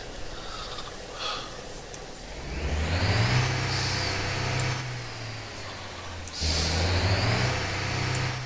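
A truck in the Motor Town driving game throttles up twice, each time a deep engine drone rising in pitch and holding loud, following an earlier quieter stretch with brief hissing puffs.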